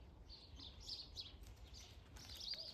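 Birds sing in the morning in New Zealand's North Island, their faint, high chirps and tweets coming in short scattered bursts over quiet background hiss.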